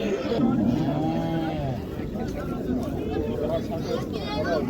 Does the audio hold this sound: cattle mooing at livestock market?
yes